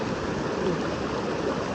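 Steady rushing water of a cold mountain stream in Nepal, a continuous broadband wash that stays close and even throughout with no voices.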